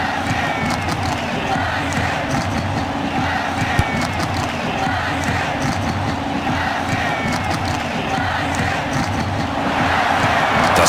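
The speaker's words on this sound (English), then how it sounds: "the new player gets a big cheer from the fans as he runs onto the pitch" A dense stadium crowd roars and cheers steadily in Pro Evolution Soccer (Winning Eleven 5) on PlayStation 2 as a new player runs onto the pitch, a loud continuous wash of fan noise that swells slightly at the end.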